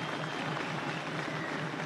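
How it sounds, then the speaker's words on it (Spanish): Crowd applause at a Venezuelan political rally of Gran Polo Patriótico candidates, a steady wash of clapping heard at a moderate distance without speech. "Para Sandra, un aplauso, por favor."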